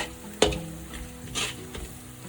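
Spatula stirring chili powder and salt into carrot, bean and tofu fried rice in a hot pan, a sharp scrape near the start and softer stirs after over a steady low sizzle, close and fairly quiet.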